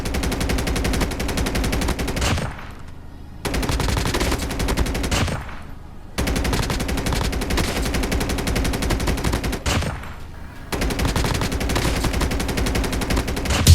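Rapid automatic gunfire in a mobile shooting game, loud sustained bursts of a few seconds each separated by brief pauses, with no talking.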